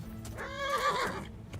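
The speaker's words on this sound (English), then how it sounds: "My horse is already galloping." A horse in the medieval game Kingdom Come: Deliverance gives a loud, close whinny lasting about half a second, with soft hoof clip-clops around it.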